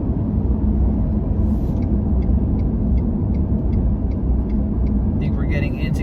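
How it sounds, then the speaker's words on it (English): Car cruising on a Texas highway and easing down to 60 miles per hour, a steady loud road rumble and engine drone from inside the cabin, with faint ticking and a brief squeak near the end. "we're slowing down to 60 miles per hour here"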